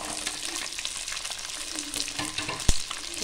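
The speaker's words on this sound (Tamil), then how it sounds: "பூண்டு சேர்த்து நல்லா கலந்து விட்டு வெங்காயம் பூண்டுலாம் நல்லா வதங்கிக்கட்டும்" Garlic and shallots sautéing in a pan for a Tamil garlic bitter-gourd tamarind curry, a steady close frying hiss with soft scraping stir strokes and one sharp knock near the end.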